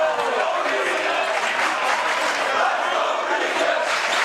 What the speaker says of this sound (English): Let's go Regis chants up from the visiting crowd, who have been extremely energetic today